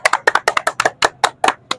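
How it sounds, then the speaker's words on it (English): Audience clapping at an influencers festival, a dozen or so loud, close, separate claps in a quick uneven rhythm with no talk over them. "So clap it up for yourself."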